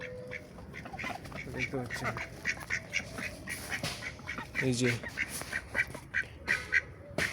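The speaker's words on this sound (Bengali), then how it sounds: "এই হাঁসগুলো দেশি হাঁস, পাতি হাঁস।" Four domestic desi ducks quack in short nasal bursts, loud and close, with a voice talking over and between the calls.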